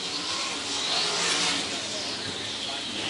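Non-wing sprint cars roar down the front straightaway of I-35 Speedway on a race night, a dense, loud, continuous engine wash that swells slightly as the pack passes.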